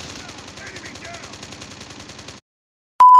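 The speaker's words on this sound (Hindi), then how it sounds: "और ये गन की आवाज़ आ रही है" Rapid automatic gunfire in the video game Call of Duty, a dense rattling burst lasting about two seconds, followed by silence and then a sharp electronic tone.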